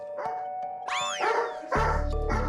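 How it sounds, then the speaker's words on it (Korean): A former boar- and bear-hunting dog barks at close range indoors, a sharp yelp followed by loud, heavy barks that grow stronger toward the end. "코앞까지 다가와 짖기 시작하는데요"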